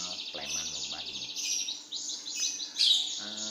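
A caged pleci (white-eye) bird kept for song competition chirps in a rapid, continuous high-pitched warble, loud and close, with a few other faint birds behind it.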